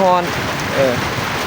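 Rain falls steadily across rice paddy fields during traditional Lao rice transplanting, a continuous broadband hiss with a brief faint voice-like tone near the start and middle.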